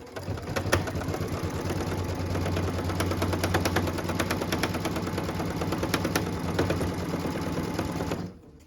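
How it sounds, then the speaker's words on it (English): A sewing machine stitches the tack-down line on a Log Cabin quilt block, running at a fast, steady mechanical clatter for about eight seconds before stopping abruptly. "What we're stitching now is the tack down line for piece number 9"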